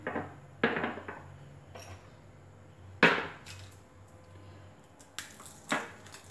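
Dried red chilies for mango pickle are snapped in two by hand, giving several sharp, dry cracks spaced apart, fairly close, over a faint low background hum.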